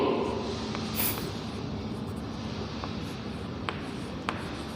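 A pen scratches across paper in a soft, continuous stroke heard up close, broken by a few faint taps, with no talking.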